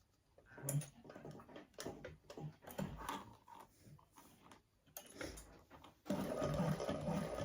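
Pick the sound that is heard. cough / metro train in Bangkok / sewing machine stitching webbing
sewing machine stitching webbing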